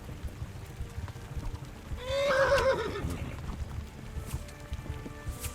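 A single horse whinnies loudly in the middle of a video game scene, its shrill neigh falling in pitch, over a low rumbling background.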